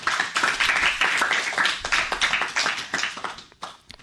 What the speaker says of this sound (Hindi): तो तालियां तो बनती है ना फिर से।